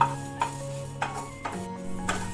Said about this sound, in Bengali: গ্যাসের ফ্লেমটা কিন্তু লোতে রেখে হালকা করে আমি ভেজে নেব